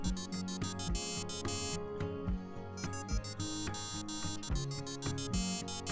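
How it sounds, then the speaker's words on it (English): A phone ringtone plays loud and close as a repeating electronic melody of bright tones, continuous throughout with no talk. "I hear her ringtone."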